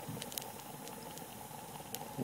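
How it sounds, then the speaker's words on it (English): Water at a rolling boil, bubbling steadily and vigorously throughout, with occasional sharper pops breaking through the dense churning. "Water is bubbling pretty fiercely in there"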